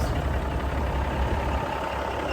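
A rebuilt 444 Cummins engine in an International Eagle truck idles with a deep, steady diesel rumble, close and continuous, with no talking.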